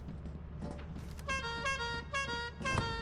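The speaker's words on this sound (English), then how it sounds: "Honking the clown horn so he would open up a bit faster." A clown horn in the Lethal Company video game honks three times in quick succession, bright and nasal, over faint background game noise.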